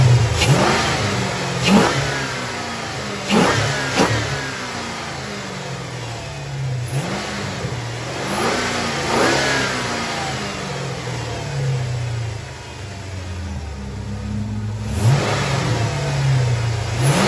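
A Dodge Charger engine with a throttle body spacer revs loudly and close, several rising-and-falling throttle blips spaced a few seconds apart over a steady idle rumble.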